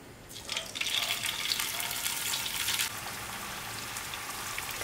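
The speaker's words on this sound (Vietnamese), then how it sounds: "bây giờ mình sẽ đi chiên đậu hũ nha các bạn." Tofu sizzles in hot cooking oil in a pan, a soft crackle that starts up and swells, then settles into a quieter, steady frying hiss.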